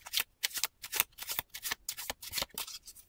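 Tarot cards are shuffled by hand in quick, crisp bursts of riffling and sliding, about a dozen short flutters in a loose rhythm, close and clear with no talking.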